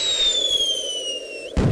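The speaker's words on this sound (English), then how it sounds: "By multiplying the fractions, we'll help Fraction Man launch the fireworks." A firework in the Edmark math CD-ROM game launches with a thin, falling whistle that glides steadily downward, then ends in a short, sharp burst.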